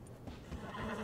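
A horse in the video game Red Dead Online lets out a short, quiet whinny, faint and brief, with light hoof clatter around it.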